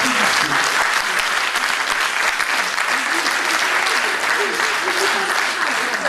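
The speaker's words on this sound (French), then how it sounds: "Je remercie du fond du cœur Pierre de Saulieu, toute son équipe, je voudrais l'applaudir." Audience at a conference applauding a thanked host and his team, a dense, sustained clapping from a crowd filling the room, loud and steady throughout.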